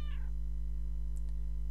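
A cat in the Vampliar game gives one short, rising meow at the start. It is followed by faint ticks over a low steady hum.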